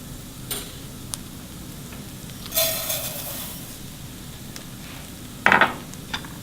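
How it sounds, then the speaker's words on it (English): Arborio rice toasting in butter in a pan gives a faint sizzle with light stirring scrapes and a few clicks, brighter bursts rising near the middle and toward the end. "I've got about a tablespoon of butter that I'm going to add to this pan. And then I'm going to toast the rice."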